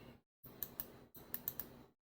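Computer keyboard keys click sharply in two short bursts, a couple of crisp taps in each like a Ctrl+Enter press, separated by brief silences in a quiet room.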